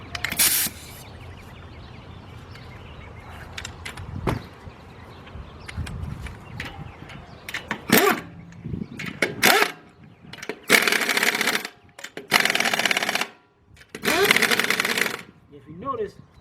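Wheel fasteners get tightened on a 2003 Lincoln Navigator during a front rotor replacement, with several close bursts of a power tool's rattling whir, separated by clanks and handling noise, and someone talks in between.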